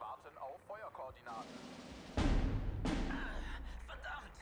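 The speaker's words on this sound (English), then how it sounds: "There's another mortar there." Mortar fire in the Steel Division 2 war game lands as a sharp, heavy boom with a rumbling tail, followed by a second blast, after someone speaks briefly.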